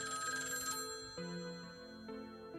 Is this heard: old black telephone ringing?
yes